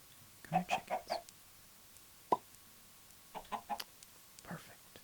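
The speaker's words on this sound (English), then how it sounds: "Come here, chickens." Chickens in the Minecraft video game cluck in short clustered bursts, soft and close, with pauses between groups and a single sharp blip in the middle.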